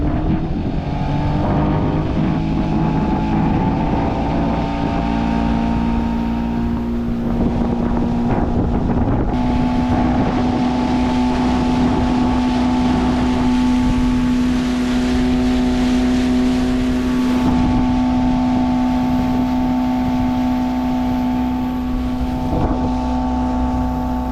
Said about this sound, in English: We're just kind of idling along right now.